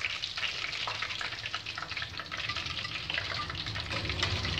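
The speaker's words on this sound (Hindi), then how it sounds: "मछली को भी फ्राई कर लेंगे" Gram-flour (besan) battered fish frying in hot oil, a dense bubbling sizzle close up, steady with small crackling bursts and no talk.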